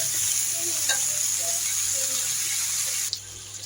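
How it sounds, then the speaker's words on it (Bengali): Eggplant stirred and sautéed in a pan with salt, a soft continuous sizzle with faint scraping from stirring, fairly quiet and steady, ending in a brief clatter. "তো আমরা বেগুনটাকে কষিয়ে নিচ্ছিলাম"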